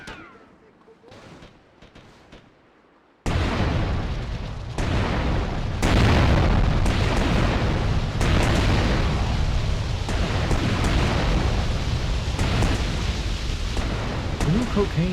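Explosions in GTA: Vice City: after a quiet start with a faint voice, a sudden loud blast opens a dense run of booming detonations and gunfire-like bursts that roar continuously to the end.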